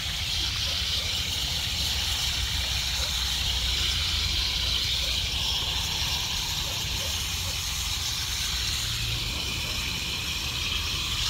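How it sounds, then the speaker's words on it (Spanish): Water poured generously at the base of a newly planted, thin young apple tree, a steady broadband splashing hiss running the whole time without pause, close by and fairly loud. "Igual le voy a echar abundante agua."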